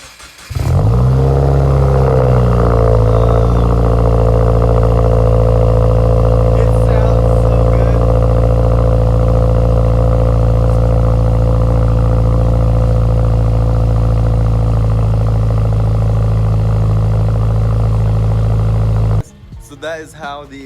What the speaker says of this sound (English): That is how the exhaust sounds.